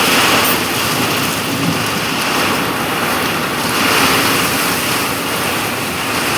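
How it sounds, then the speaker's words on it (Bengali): Sudden heavy rain during a storm in Burdwan pours down as a loud, dense and unbroken roar of water, steady throughout with faint rumbling beneath. "প্রচণ্ড পরিমাণে বৃষ্টির দাপট দেখাচ্ছে হঠাৎ করে আজকে এত বৃষ্টি শুরু হয়েছে থামছে না"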